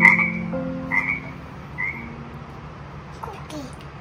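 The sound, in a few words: frog croaking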